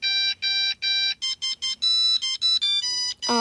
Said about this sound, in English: Someone's calling me.